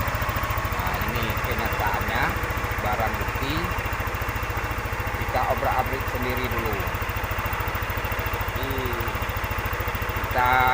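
A Yamaha NMAX scooter engine runs at a steady idle, close and continuous, with a low droning hum and vibration throughout while people talk over it.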